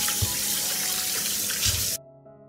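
Tap water runs steadily into a sink while fresh tomatoes are washed, then cuts off abruptly near the end.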